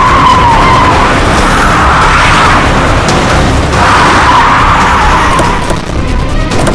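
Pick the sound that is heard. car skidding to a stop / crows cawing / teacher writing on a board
car skidding to a stop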